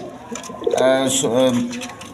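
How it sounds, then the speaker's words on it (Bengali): A pair of pigeons on a farm give a brief, soft cooing call that rises and falls over about a second, close by, with a voice speaking alongside. "এইখানে এক পেয়ার কবুতর আছে দেখেন"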